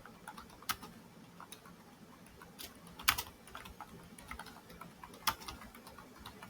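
Sparse, irregular clicks of a computer keyboard as a keyword is entered into a search tool, light taps spread out with pauses between, quiet and close with no talking.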